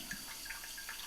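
A Toto Washlet toilet wand in cleaning mode sprays water in a soft, steady hiss with light splashing, faint and brief.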